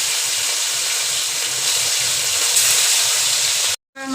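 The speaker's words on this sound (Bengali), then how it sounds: "তেলটা গরম হয়ে গেছে, এইবার আমরা এতে বাটা মাছটা ছেড়ে দিলাম।" Bata fish dropped into hot oil in a heated kadai, giving a steady, loud crackling sizzle that continues evenly for about four seconds before cutting off abruptly.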